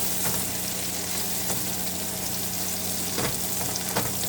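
Garlic and onion frying in a pan for a pork steak dinner, a steady close sizzle with soft crackles and a few brief stirring clicks, no voices.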